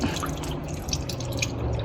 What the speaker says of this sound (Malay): Nampak tu? Air terus turun.